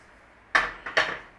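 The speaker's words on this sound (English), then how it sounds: "So, grab yourself a pan." A metal cooking pan being grabbed and set down in a home kitchen, producing a sharp clank followed by a second, louder knock with a brief ringing tail, close and alone.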